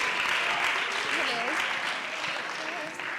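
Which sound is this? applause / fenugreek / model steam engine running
applause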